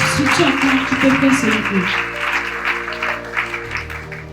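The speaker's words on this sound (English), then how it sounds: "If you are clapping, clap for Jesus." A congregation at a Christian testimony service claps together, the applause mixed with sustained music tones and voices that carry over it throughout.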